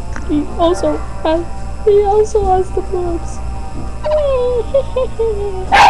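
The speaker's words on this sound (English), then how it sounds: "If you heard that, that was my dog barking at each other" Dogs bark and whimper in short yips amid a child's chatter, the barks coming in scattered bursts close by over steady background noise.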